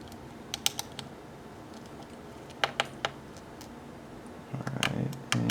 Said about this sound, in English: to fully remove it, you do need to remove two screws, which are right here and right here. They're two Phillips screws.